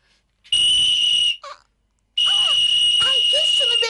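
A child's toy whistle shrills in two loud, steady blasts separated by a short pause, with someone talking over the second blast.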